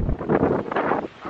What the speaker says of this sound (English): Oh my God, y'all, it is so windy.